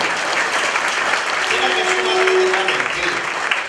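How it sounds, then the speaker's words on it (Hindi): An audience claps loudly for Mata Rani at a spiritual talk, producing a dense, even burst of applause throughout, with a voice faintly audible underneath. "मैं एक बार जोरदार तालियां चाहूंगा मेरी माता रानी के लिए"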